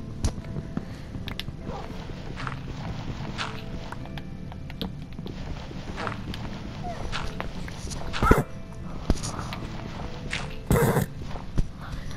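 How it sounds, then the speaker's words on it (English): Dog in the Minecraft video game growling and barking fiercely, short yips and bursts scattered over steady game footsteps and background noise, with the sharpest outbursts near the end. "the dog is really being vicious"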